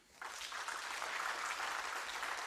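An audience at a conference talk breaks into applause, a faint, steady wash of clapping that starts suddenly and carries on evenly to the end.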